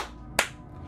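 A single sharp clap rings out once amid a quiet room hum, brief and fairly close.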